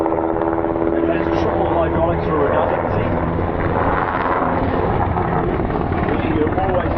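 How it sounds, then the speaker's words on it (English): A military helicopter flies at the Warbirds Over Wanaka airshow, its loud, steady rotor thump and turbine roar filling the whole stretch without a break. "Look at the military helicopter"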